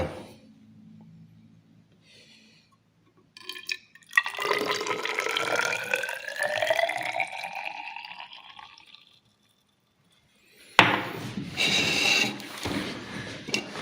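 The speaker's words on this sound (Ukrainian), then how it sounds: "І переливаємо в мірний циліндр всю воду з калориметра" Water poured from a calorimeter into a measuring cylinder during a school physics lab, a steady splashing, trickling pour lasting several seconds near the microphone, then a brief pause and a second burst of pouring.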